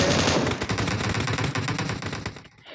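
Rapid bursts of video game automatic gunfire crackle loudly in quick succession, a dense volley that tapers off at the end.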